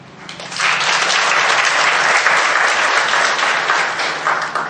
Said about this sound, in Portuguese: eu gostaria de uma salva de palmas para a Silvana Desorde